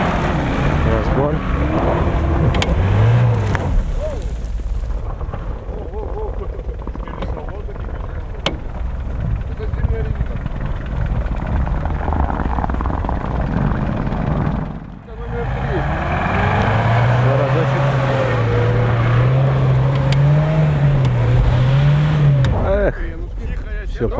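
A Toyota Carib station wagon on an off-road course accelerates, its engine droning steadily and rising in pitch as it revs through a long climb, close and loud, with a brief dip midway.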